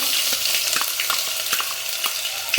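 Ginger garlic paste sizzles in hot oil with cumin seeds and bay leaf for a chicken curry base, a close, continuous frying crackle with quick stirring scrapes and no talking.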